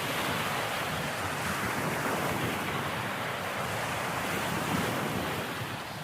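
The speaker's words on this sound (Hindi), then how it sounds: "समुद्र की लहरों का शोर" Sea waves surging and washing continuously onto the shore, a steady broadband roar with some wind noise, loud and close throughout with no voices.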